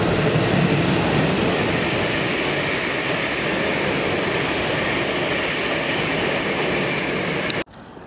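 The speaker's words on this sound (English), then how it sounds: "that's my train just departing" A GWR train departs a station on the Reading to Basingstoke branch, a loud steady roar of engine and rolling wheels held throughout, close by, cutting off abruptly near the end with no talk.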